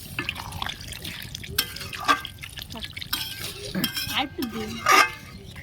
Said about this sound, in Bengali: এবার আমরা জল দিয়ে দেবো পরিমাণ মতন